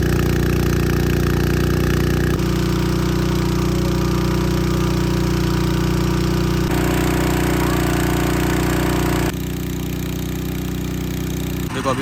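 Engine of a rice transplanting machine working in a muddy paddy field: a loud, close, steady mid-pitched chugging drone that runs throughout, with a couple of slight shifts in tone and no talk.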